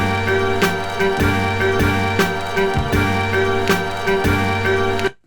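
Unquantized hip-hop beat sequenced from a sample, with steady punchy drum hits and sustained tonal layers looping for about five seconds, loud and full, then cutting off abruptly at the end.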